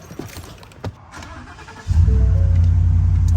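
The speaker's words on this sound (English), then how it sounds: "I'll do a quick demo, just starting the car real quick." Ford F150 pickup starting up: a few soft clicks and rustles, then the engine cranks and catches, settling into a steady, close idle hum that holds to the end.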